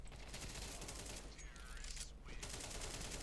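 Rapid bursts of automatic gunfire rattle continuously with a dense mechanical chatter, a steady barrage of shots from Counter-Strike 2.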